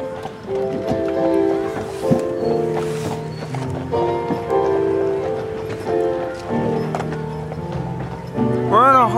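Hooves clip-clop steadily as a horse walks along on a horse ride at a holiday lights display in La Crosse, Wisconsin, heard under layered music and people talking nearby.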